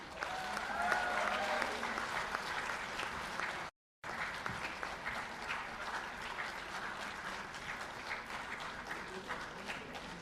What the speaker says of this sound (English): Put your hands together for their Chairman and Managing Director, Mr. Tapas Kumar Nag.